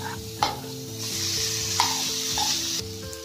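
Curry leaves and boiled potato sizzle steadily in a hot pan, with occasional sharp pops and a few scrapes of stirring, close and continuous throughout.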